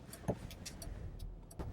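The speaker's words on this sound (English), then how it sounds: "A lot of traffic." Road traffic rumbles past at a busy intersection while a car waits in a left centre turning lane, a steady low drone with faint passing swells and a few light ticks.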